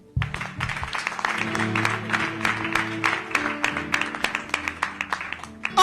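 An audience at a French-language church conference claps together in a dense, sustained round of applause that builds and then thins into scattered claps near the end.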